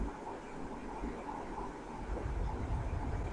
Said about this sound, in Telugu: సో మీరు చూడొచ్చు ట్రైన్ వెళ్తుంది